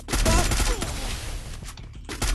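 Gunshots in a shooter video game, rapid bursts of game gunfire crowding one another at close range, loud and dense throughout with a brief lull near the end.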